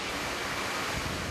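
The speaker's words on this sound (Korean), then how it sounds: "씻은 손을 말리고 나면 최종 관문인 에어 샤워 단계가 기다리고 있는데요" Steady, forceful air rushes from an air shower at a food factory hygiene station, a constant broadband blast that holds evenly from start to finish, close and loud with no voices.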